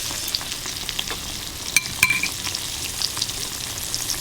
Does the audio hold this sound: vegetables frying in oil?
yes